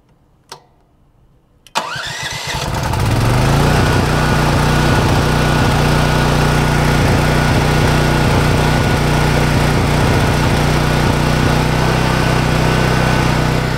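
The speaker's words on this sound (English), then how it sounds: "let's go ahead and get the generator running" A portable generator used to charge solar batteries: a click and a pull, then the engine catches and settles into a loud, steady, close running drone.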